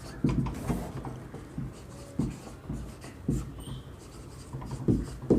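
Marker or chalk writing out a maths solution on a board during a Class 11 sequences and series lesson, with steady scratchy strokes and taps repeating throughout, fairly close and alone.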